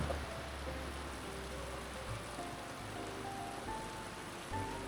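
Soft, steady rain from a typhoon patters continuously in the background, fairly faint, with no voices.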